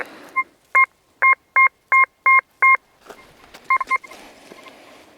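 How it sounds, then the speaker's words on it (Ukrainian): In a field, a metal detector gives a clean signal: a run of loud, evenly spaced electronic beeps, about seven short pulses in quick succession, then a brief gap of scraping noise and a few faster beeps. "Який чистенький сигнальчик класний."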